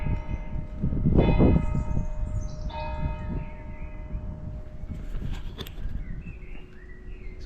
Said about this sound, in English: It's almost like they dong the bells for me.